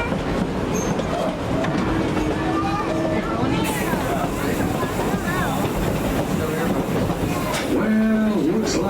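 A Tweetsie Railroad excursion train rolling along on a July 4th ride, with steady rumbling wheels, occasional squeals and clatter close by, mixed with background voices of passengers.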